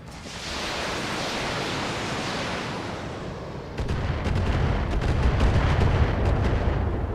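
Precision strike landing on an LRM turret in the BattleTech video game, a sustained rushing roar that swells into a heavier, louder rumble of impact and crackle partway through, with no speech.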